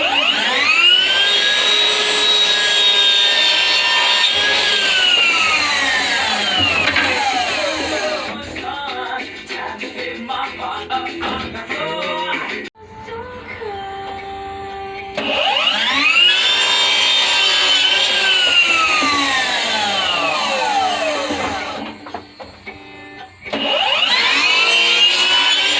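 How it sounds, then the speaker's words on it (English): A power saw cuts wooden window trim miter returns in two long, loud passes, its motor whine swooping up and then sagging under load, with quieter rattling and handling noise between cuts. "I'm just cutting the miter returns for them."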